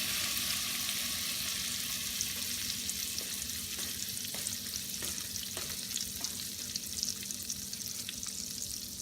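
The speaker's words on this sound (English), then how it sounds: "Now on a hot pan here, we put olive oil, and the oil is hot now. We're gonna put butter." Butter sizzles in a hot pan of olive oil, a dense, continuous close hiss with faint crackles and a few light taps, steady and loud for the whole stretch without any talking.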